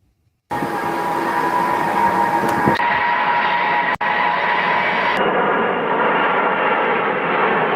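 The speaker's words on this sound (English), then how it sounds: "So that looks like the equivalent of a C-5, which is a large plane that we use." A large military transport plane, comparable to a C-5, passes during drills with a loud, steady engine roar that holds for several seconds, broken by a few abrupt cuts in the sound.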